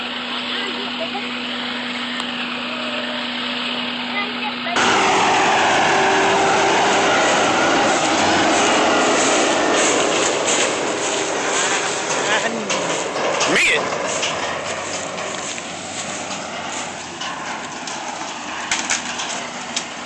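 A yellow John Deere machine trims trees outdoors in wet conditions, a loud, steady, broadband mechanical roar that starts abruptly and continues throughout, with people talking over it.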